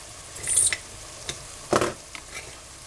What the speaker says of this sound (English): going to add some diced tomatoes. I'm going to add 2 cans.